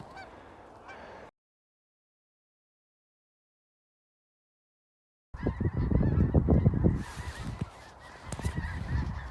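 Canada geese and blue geese honking at a large waterfowl feed, a short faint stretch, then several seconds of silence, then a loud, dense chorus of many close honking birds.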